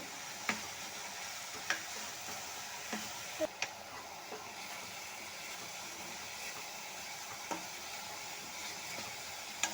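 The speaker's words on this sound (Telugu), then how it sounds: "ఉప్పు తగినంత కారం వేసుకొని తిప్పుకోవాలి" Amaranth and tomato curry with salt and chili cooks in a pan, a faint steady simmering hiss punctuated by scattered light ladle clicks against the vessel, no speech.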